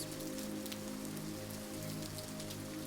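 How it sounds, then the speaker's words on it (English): Steady rain patters on surfaces with a soft, even hiss and scattered drop taps, continuous and moderately distant with no voices. "listen to the counterpoint of the rain and the whispers of the dancing flames"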